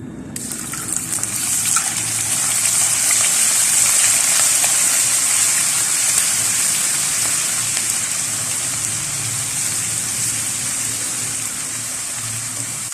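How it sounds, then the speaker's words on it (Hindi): Steady, loud hissing sizzle of ginger garlic paste frying in hot ghee on low flame, continuous and close, with no voices. "लो फ्लेम पे 1-2 मिनट फ्राई करने के बाद"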